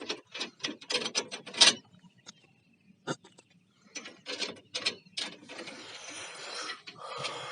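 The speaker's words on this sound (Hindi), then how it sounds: "और मैं एक क्लैंप ऐसे खोल दिया हूँ और भी दूसरा खोल रहा हूँ।" Mounting clamps on a rooftop solar panel array are worked loose with a run of close, clattering metallic rattles and ratcheting clicks, broken by short pauses and ending in a rougher scraping stretch.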